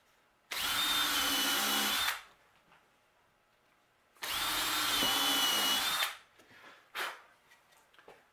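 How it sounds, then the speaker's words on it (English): A cordless drill with a countersink bit whirs into scrap wood in two short bursts of about two seconds each, close by, followed by a few light knocks and clicks. "with your countersink bit with cordless drill"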